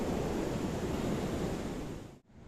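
Strong wind roaring outdoors by the water during carp fishing, a dense steady rush buffeting the microphone with surf-like noise, loud and continuous before cutting off abruptly near the end.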